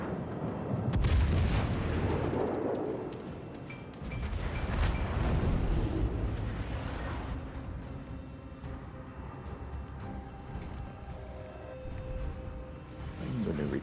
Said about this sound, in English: All stations, concentrate fire on the target.